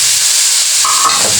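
Tomatoes go into a hot pan for Filipino pakbet, setting off a steady loud sizzle and hiss that swells suddenly near the end as they hit the oil, with no talk.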